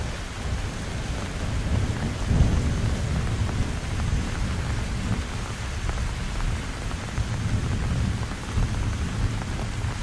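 Steady heavy rain pours over a hilly forest, a dense, even roar of drops on surfaces that holds at constant loudness throughout, with low rumbling underneath that may be distant thunder.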